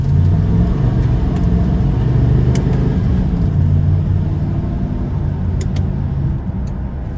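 Car fitted with a Thermoquad four-barrel carburetor driving and accelerating, a loud, close, continuous low engine rumble that rises and holds with no speech.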